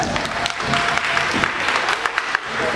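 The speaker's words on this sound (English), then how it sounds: "Let's have a round of applause." Audience applause at a recital fills the room, a steady dense wash of many hands clapping at close range throughout, with no voices standing out.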